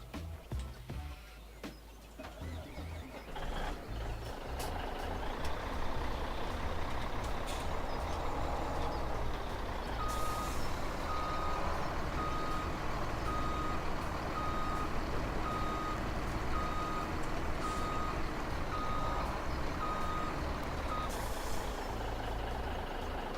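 A truck pulling a trailer reverses in Farming Simulator 2017, a steady engine drone with repeated evenly spaced reversing beeps and an air brake hiss near the start.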